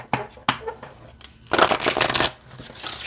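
A Starlight Frequencies oracle card deck being shuffled by hand: a few sharp riffling snaps, then a longer, loud, close rustling shuffle with a brief pause before more card noise.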